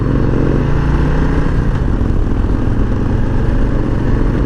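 A Softail Low Rider S M8 motorcycle with stock exhaust rumbles steadily at speed, a deep continuous drone with rushing wind noise, loud and close throughout.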